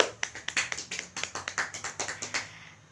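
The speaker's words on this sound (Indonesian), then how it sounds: "Kita beri aplaus dulu untuk mereka" A class IX group at an Islamic junior high school gets short applause in the classroom. A dozen or so light, evenly spaced claps sound close by, like a small number of hands, then quickly die away.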